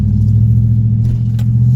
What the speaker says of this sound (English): This is my truck. It's a 2014 Chevy Silverado Crew Cab